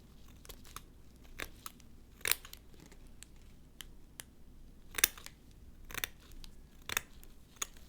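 Scissors snip through a sterile gauze dressing pad in a short series of crisp, close cuts, about six irregular snips with quiet handling between them and no talking.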